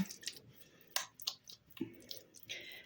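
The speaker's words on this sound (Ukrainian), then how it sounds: "ліплю такі котлетки, хто які хоче по величині" Hands moistened with water or oil shape minced meat cutlets for baking, making soft, quiet, irregular squelches and sticky slaps close by with no talking.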